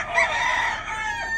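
A rooster crows in one loud, sustained cock-a-doodle-doo, close and clear, with no talking over it.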